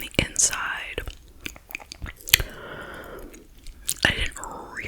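Someone bites and chews a Dubai chocolate bar filled with pistachio cream and crunchy chopped knafa phyllo, giving sharp close crunches and wet mouth sounds in bursts, with soft whispered talk between the bites.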